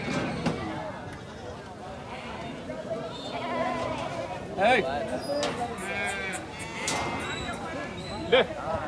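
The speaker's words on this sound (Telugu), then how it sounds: "ఇవన్నీ మేకపోతులు ఉన్నాయి" Male goats at a busy weekly livestock market bleat repeatedly, some close and loud and others farther off, against a crowd murmur and people talking nearby.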